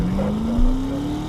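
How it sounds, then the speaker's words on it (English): Car engine of a silver Impala in a film scene, a steady low hum with a slowly rising tone and a brief swell midway, loud and close with no talk. "How about the engine of the car reflecting the tension and emotion of the scene?"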